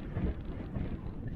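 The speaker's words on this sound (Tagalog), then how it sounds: "Lakas yung hangin." Steady low rumbling wind buffeting the microphone, continuous and fairly loud with gusty swells, no voices.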